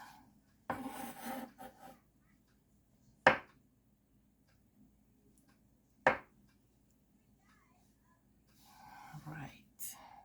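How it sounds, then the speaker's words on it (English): A knife slices through boiled eggs on a board for an avocado salad: two sharp, distinct cutting thuds close by, with soft rubbing and handling sounds around them and quiet speech near the start and end. "Let's cut the eggs."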